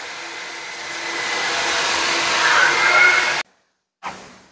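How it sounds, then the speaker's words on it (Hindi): A coin-operated vacuum machine at a self-service car wash runs with a loud, steady roaring whoosh that swells slightly, cuts off abruptly into silence, then briefly kicks back on. "ये वैक्यूम मशीन है, इसमें कॉइन डालूंगा तो फिर ये टर्न ऑन होगी।"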